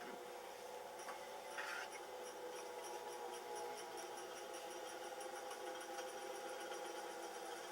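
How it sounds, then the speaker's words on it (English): A motorized colour-mixing wheel spins up to speed, a steady mechanical whir with a faint rhythmic ticking that holds at an even level throughout, with no talking. "then I'm going to spin the wheel"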